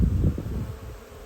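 Honeybees flying into a hive carrying pollen, a close low buzzing hum of many wings that is strongest at first and then fades slightly, brief and without talk.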